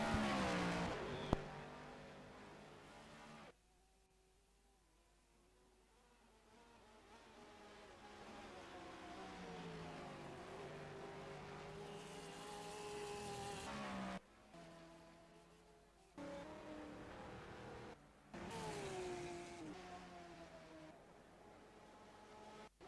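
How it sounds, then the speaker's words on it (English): Racing cars circulate an endurance race at Simply Race, engines droning and shifting pitch as they accelerate and pass, with sections cutting abruptly between louder and quieter passages. "that is the Ashton's Purple Helmets car entering turn 2 now"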